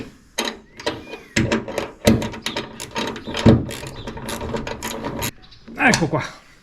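Tightening the hood strut mount on a Nissan Qashqai J11 produces a run of close ratcheting clicks and mechanical rattles, in bursts with short gaps, while someone speaks at times.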